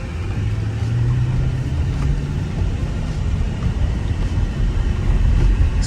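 2006 Mercedes SL55 AMG on coilover suspension cruising along, a steady low engine and road rumble heard from inside the cabin, loud and continuous without talking.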